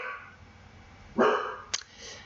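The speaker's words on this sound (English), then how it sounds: "That'll be my doggy barking." A pet dog barks twice in quick succession, the first bark fuller and the second sharp and short, at moderate loudness over a quiet room background with no talking.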